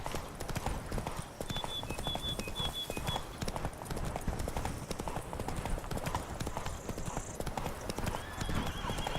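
A horse gallops in The Witcher 3: Blood and Wine, its rapid rhythmic hoofbeats pounding steadily up close, with brief whinnies and a voice talking over the ride.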